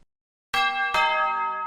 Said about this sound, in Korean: 저는 미소를 지으며 초인종을 눌렀습니다